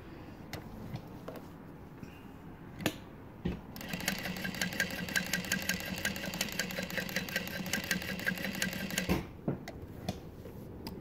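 A Juki DU-1181 walking foot sewing machine with a power saver motor stitches through thick layers, its steady rapid needle rattle running for several seconds after a few isolated clicks, then stopping abruptly.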